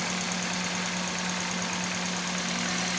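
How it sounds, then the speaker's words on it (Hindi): Car engine idling steadily after an ignition coil is refitted to cure a misfire, a continuous close mid-pitched hum with a faint rhythmic pulse and no talk. "हाँ अब ये देखें इंजन की आवाज़ आपको चेंज होती हुई नज़र आ रही होगी।"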